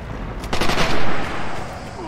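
Gunfire in the video game Red Orchestra 2, a loud burst of rapid shots with a booming rumble trailing off behind it, heard close in the middle of combat.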